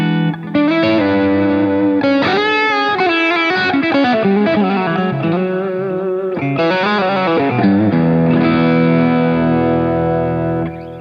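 An electric guitar plays chords and sustained notes through a heavy distortion effect, thick and buzzy with ringing harmonics, loud and continuous.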